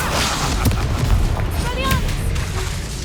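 Spell explosions from the Confringo curse in the Hogwarts Legacy video game boom and crackle in a dense, continuous barrage of battle noise, with a voice shouting over the din.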